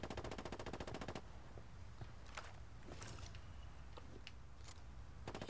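Rapid automatic gunfire in the Ghost Recon Ghost War video game rattles out in a quick burst at the start, then fainter scattered shots and small impacts follow against a quiet background.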